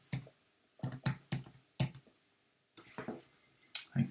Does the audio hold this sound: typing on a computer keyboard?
yes